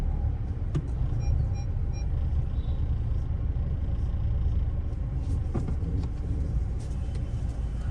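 A 2013 Audi A4 2.0 TDI diesel on the road, heard from inside as a low, steady engine and tyre rumble with a few brief knocks and clicks, no talking.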